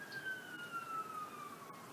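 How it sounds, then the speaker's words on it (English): A distant emergency siren outdoors on a warm day, a thin steady wail drifting slowly down in pitch and sitting faint under low ambient hum. "There's the siren going,"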